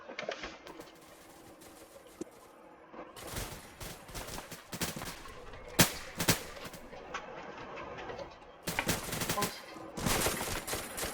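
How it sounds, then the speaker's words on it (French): Gunfire in the VR game Projet: SCP, heard as bursts of rapid shots in clusters across the clip, fairly quiet, with a sharp louder shot midway. "J'ai tiré."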